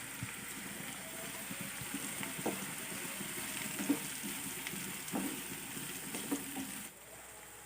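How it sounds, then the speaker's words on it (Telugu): Sliced onions and finely chopped cabbage fry in a pan with a steady, moderate sizzle, broken by soft scattered clicks and stirring scrapes, fairly close and without voices. "ఇప్పుడు సన్నగా తరిగిన 1 కప్పు క్యాబేజీ ముక్కలను కూడా వేసి ఫ్రై చేసుకోవాలి."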